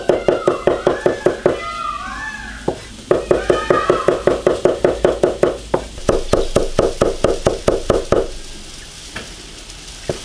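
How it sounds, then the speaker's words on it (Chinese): A knife chopping garlic on a cutting board in a fast, steady run of sharp, close knocks that continue for several seconds, with a few brief higher-pitched sounds in between. "剁点大蒜蛋炒土豆，"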